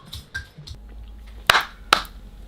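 Two sharp, isolated hand claps recorded for a music track, each a crisp loud snap standing alone after some quieter low thumps and clicks.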